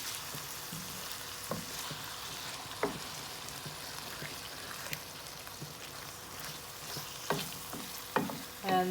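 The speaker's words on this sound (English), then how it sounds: "I'm going to add one 400 gram tin of diced tomatoes and just give it a good stir" Diced tomatoes from a 400 gram tin stirred into a sizzling pan sauce, giving a low steady frying hiss broken by scattered spoon scrapes and soft clinks, close and alone with no talking.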